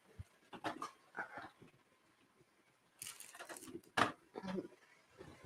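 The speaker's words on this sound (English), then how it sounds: "The hound dogs are not going to be happy with me about this." Hound dogs whimper, pant and snuffle in a home kitchen, in close, uneven bursts of whines and breathy puffs separated by quiet pauses.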